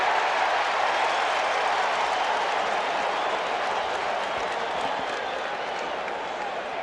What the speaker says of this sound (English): It is a festive, highly enthusiastic crowd